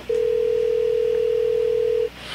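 A telephone dial tone sounds while a call is placed on a phone: one steady, loud, unbroken electronic tone lasting about two seconds, then cutting off abruptly.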